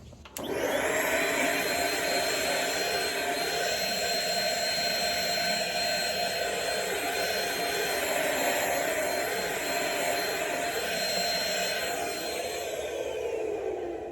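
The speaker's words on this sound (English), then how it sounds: "And then we're gonna vacuum it up and see what that looks like." A vacuum cleaner runs steadily at close range over a tufted rug, a loud continuous whine and rush that starts abruptly and holds without a break.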